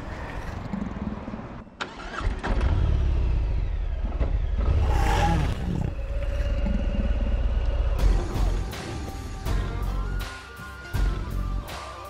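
A 2018 Harley-Davidson Fat Bob engine fires up and revs hard, a loud deep growl rising and falling several times up close, with no talking.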